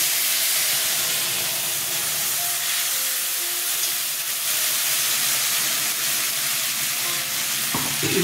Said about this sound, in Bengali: জিরে ফোড়ন দিলাম, লঙ্কা আদা পেস্ট ছেড়ে দিলাম।